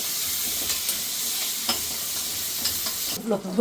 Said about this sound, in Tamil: இப்போ ஒரு கொத்து கருவேப்பிலை போட்ட உடனே அது மேலேயே வந்து வெங்காயத்தை போட்டுருக்கோம்